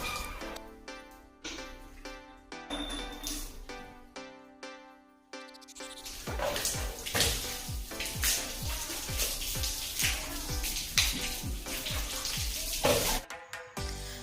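Water runs and splashes steadily as a cupboard in a home is washed down, a broad hissing rush that starts after some clattering and carries on loud and close to the end, with no talking.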